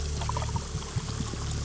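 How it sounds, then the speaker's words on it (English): A magenta shot of liquid is poured in a bar, a short close trickle and splash running steadily over a low constant background hum. "I turn my back to him and pour myself a magenta shot of Janice, downing it as I hear the sizzling of Gomez'"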